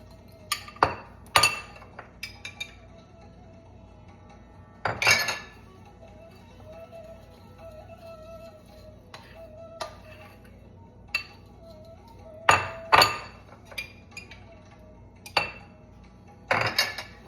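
A metal spoon clinks sharply against a bowl while stirring deodorant powder and oil, with scattered irregular taps and scrapes, some in quick pairs, over a quiet background.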